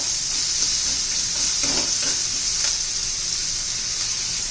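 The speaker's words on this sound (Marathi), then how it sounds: "कांदा चांगलं परतून घ्यायचा आहे" Onion sizzles steadily in a hot pan for a home-cooked ridge gourd bharit, with a constant frying crackle and a few soft stirring scrapes.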